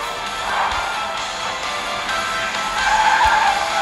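Race car in the mobile game QQ Speed Mobile drifts across water on a Renault-themed map, a loud continuous engine and tire-skid roar with surging intensity and a few thumps.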